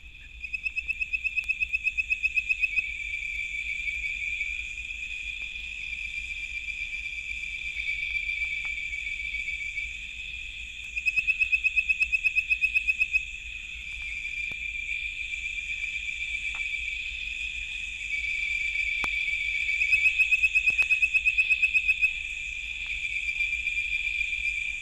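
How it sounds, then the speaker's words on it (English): Bird-voiced tree frogs in Florida give continuous high-pitched whistling calls that pulse and swell in a steady chorus, moderately loud against a quiet night background. "The high-pitched whistles of this frog sound somewhat bird-like"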